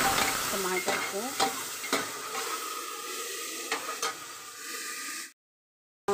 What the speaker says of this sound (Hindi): अपने टमाटर को इसी के साथ भून लेंगे।